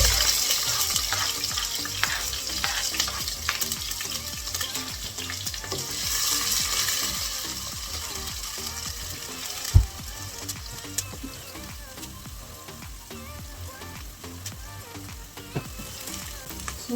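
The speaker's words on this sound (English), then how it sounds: "So let's fry our vegetables. That is spinach." Spinach frying with onions and oil in a pan, a continuous crackling sizzle with scraping stirring strokes and a sharp knock partway through, close up with no talking.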